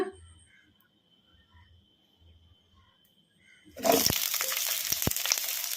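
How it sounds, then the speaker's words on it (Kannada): Chopped onions drop into hot oil in a kadai: near silence gives way to a sudden loud, sharp sizzle that settles into a steady, close crackle. "ಈಗ ಎಣ್ಣೆ ಕೂಡ ಬಿಸಿಯಾಗಿದೆ ಈಗ ಇದಕ್ಕೆ ನಾವು ಕಟ್ ಮಾಡಿ ಇಟ್ಕೊಂಡಿದ್ವಲ್ಲ ಉಳ್ಳಾಗಡ್ಡಿ ಇವನ್ನ ಹಾಕೋಣ"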